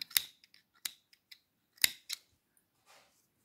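Scissors snipping crochet yarn, a handful of sharp, close, separate clicks and cuts spaced over a few seconds in an otherwise quiet room.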